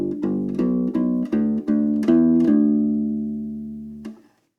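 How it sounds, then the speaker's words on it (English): Intermediate blues rock bass line plucked on a U-Bass, a steady run of separate low notes with a deep, rubbery tone, ending on one longer sustained note that fades out, heard alone without talk. "So let's move on to line 2, the intermediate bass line."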